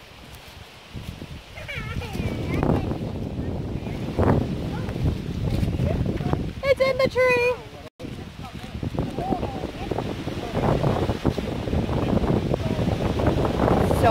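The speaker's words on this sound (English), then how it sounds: "So windy. I hate this." Gusty wind on a golf course rumbles and buffets the microphone in loud, uneven waves throughout, with people talking over it and a brief high chirping sound midway.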